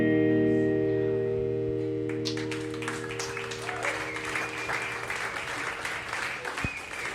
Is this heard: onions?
no